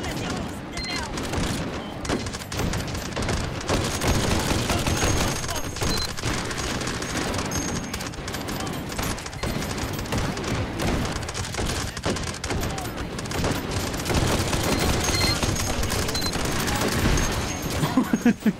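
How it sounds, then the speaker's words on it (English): Dense, sustained gunfire and explosive booms fill a VR shooter battle in Hot Dogs, Horseshoes & Hand Grenades, loud and continuous throughout with rapid bursts and heavy thuds, voices faintly mixed in. "I need to shoot you there, buddy."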